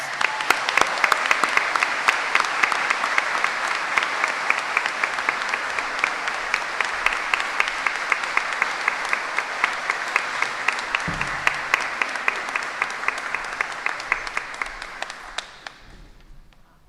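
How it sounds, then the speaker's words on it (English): Sustained round of applause from an audience at a high school academic achievement awards ceremony, honoring two recipients; dense, steady clapping that holds loud and even for about fifteen seconds before tapering off at the end. "Give them a round of applause."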